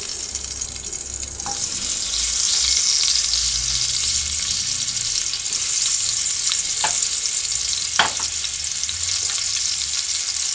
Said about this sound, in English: Just allow that to saute for about a minute or two.